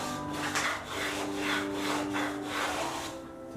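A hollow plane shapes the rounded top of a cherry wood table stretcher for a drop leaf table, giving a steady, continuous rasping scrape that swells in repeated strokes, close and alone.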